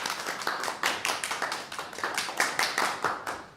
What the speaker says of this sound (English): let's give 2 more rounds of applause